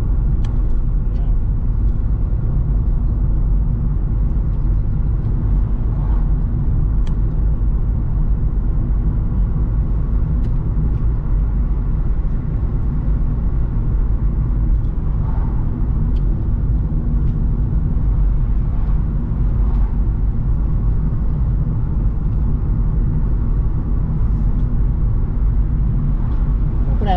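Steady low road rumble from inside a car driving on a highway in Finland, continuous and even throughout, with faint passing traffic swells and no clear speech.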